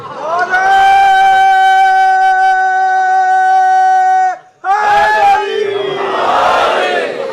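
A crowd at a Shia majlis gathering in an imambargah during Ramadan chants religious slogans in loud unison, a long sustained chorus, a brief break, then a second burst of voices.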